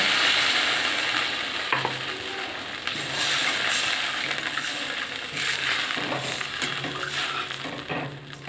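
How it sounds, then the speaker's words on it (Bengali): Water is poured into fried, sizzling masala in a pan to make curry, giving a steady loud sizzle and bubbling hiss with scraping and stirring clicks throughout, no voices. "মশলাটা কষানো হয়ে গেছে, আমি এবার এতে পরিমাণ মতো জল দিয়ে দিচ্ছি।"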